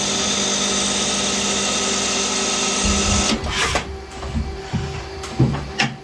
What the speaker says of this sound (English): So now we're going to do that drilling all the way around.